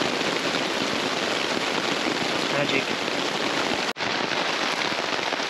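Steady, close rain pours on a solo mountain hike, a dense even hiss throughout with a short break near the end; a voice speaks briefly.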